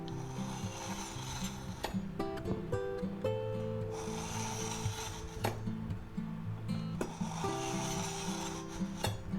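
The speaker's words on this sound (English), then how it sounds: "we'll take our aceti knife here, the Santoku, and we'll go ahead and sharpen it. We'll pull it through there maybe 3 times." A Santoku knife is pulled through an AnySharp knife sharpener in about three separate rasping, scraping strokes, close and moderately loud over a low steady background hum.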